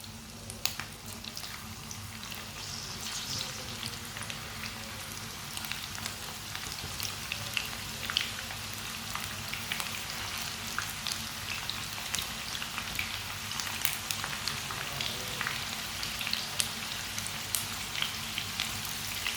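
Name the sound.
okra frying in hot oil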